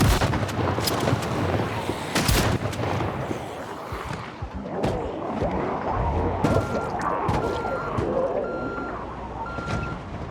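Heavy, booming pipe bomb explosions in the video game Project Zomboid, several loud blasts early on followed by scattered bangs and repeating beeps, with no talking.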